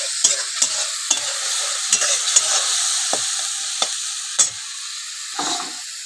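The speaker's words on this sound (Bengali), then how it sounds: "বাটিটা দিয়ে একটু জল দিলাম মশলাটা ভালো কষে নেব" Spice masala with a splash of water being stir-fried in a pan, a bright hissing sizzle punctuated by regular spatula scrapes and taps against the pan.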